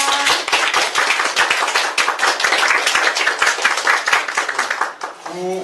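Dense, steady applause from a crowd fills the room for several seconds, then tapers off as a voice begins speaking at the end.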